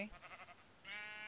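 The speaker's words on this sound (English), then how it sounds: "it's a real pink sheep and I've got it on camera!" Sheep bleating in the video game Minecraft: a wavering bleat followed by a second, steadier bleat, clear and close.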